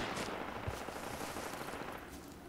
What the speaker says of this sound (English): Those shots are not friendly, I don't think, are they?